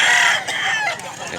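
A white Kelso rooster crows in one loud, close call with a strained, harmonic tone that fades toward the end.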